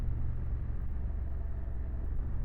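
A Honda CRF 1100 Adventure Sports DCT motorcycle rides along in third gear, its engine giving a steady low rumble with road and wind noise holding even throughout.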